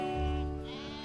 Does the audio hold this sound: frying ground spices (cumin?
no